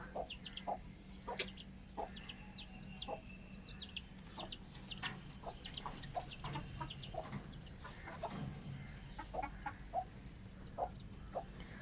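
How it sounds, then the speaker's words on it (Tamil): Several chickens, some with a cold, cluck softly in short scattered calls against a quiet background, with faint chick chirps mixed in, no voices. "இந்த கோழியெல்லாம் வந்து பார்த்தீங்கன்னா அவயத்துக்கு இருக்குது இந்த கோழி"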